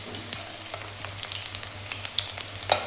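Wheat flour snacks fry in hot oil, a soft continuous hiss dotted with small pops and crackles, a sharper burst near the end, quiet and close with no speech.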